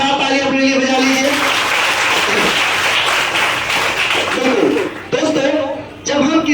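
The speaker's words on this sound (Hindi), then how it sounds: "ईमानदारी से शानदार ताली अपने लिए बजा लीजिए" Audience applause fills a motivational business seminar hall, a dense sustained clatter of clapping lasting several seconds, dipping briefly near the end before rising again, with some voices mixed in.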